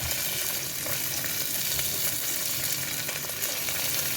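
Carrots and peas frying in a hot pan for dal khichdi give a steady, dense sizzle that holds close and even throughout, with no voices.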